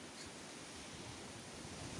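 Wind blowing steadily outdoors, a soft continuous rush with slight swells and no voices, fairly faint throughout.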